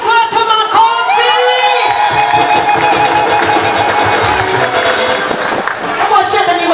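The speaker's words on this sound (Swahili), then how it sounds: "Pigia Yesu wetu makofi." A crowd cheers and shouts loudly with whoops at a church launch event attended by a parliamentary speaker, a dense, sustained roar.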